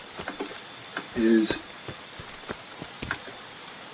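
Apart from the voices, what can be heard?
rain starting in the video game Escape from Tarkov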